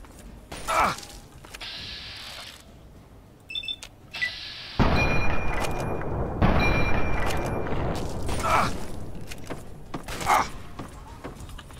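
Gunfire rings out in the video game Fallout 3: a few sharp isolated shots at first, then a dense, loud stretch of rapid firing and booms that carries on to the end, with little talk over it.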